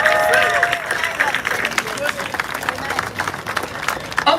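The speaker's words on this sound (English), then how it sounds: "Clap it up for them." A rally crowd clapping for a group: a sustained wash of applause mixed with crowd murmur and some voices, steady and moderately loud from start to finish.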